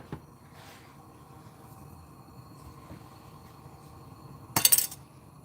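A saucepan clanks sharply once near the end while being handled and set onto a stovetop on medium-high heat, after a quiet kitchen background.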